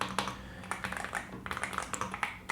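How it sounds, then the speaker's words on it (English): Typing on a Yunzii AL66 mechanical keyboard with linear milk switches, a quick, uneven patter of soft clacky keystrokes heard up close without any talk. "This keyboard is only available with Yunzii milk switches, which are linear type switches, and the typing sound is very satisfying."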